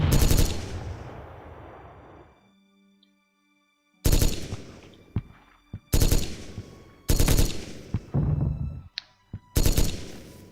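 Heavy tank guns firing in the Gettysburg Armored Warfare video game: loud booming bursts, one long roaring volley, a silent gap, then several sharp repeated blasts in quick succession, close and forceful.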